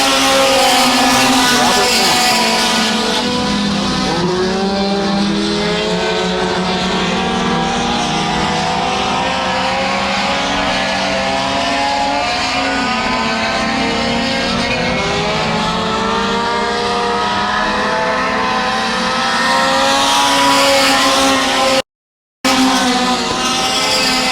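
Mini stock race cars roaring around a dirt track during a heat race at Genesee, engines revving and droning continuously with shifting pitch. A track announcer talks over the racing noise.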